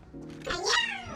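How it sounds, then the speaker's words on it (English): Cat meowing in the Honkai: Star Rail video game, a single drawn-out rising and falling meow heard fairly close over quiet game background sound. "Sounds like a cat."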